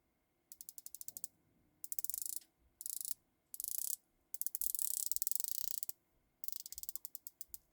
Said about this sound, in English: So we have a sapphire bezel insert, 120 click bezel.